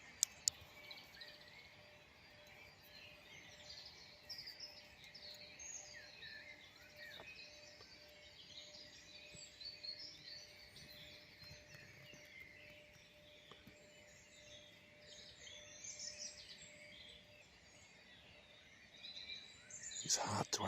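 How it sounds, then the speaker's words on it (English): Wild birds chirp and tweet in quiet woods, small scattered calls that stay faint and distant over a soft background hush. "It's hard to identify sometimes the little tweets and chirps that you hear."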